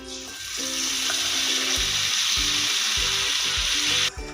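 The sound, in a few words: tamarind pulp frying in tempering for pulihora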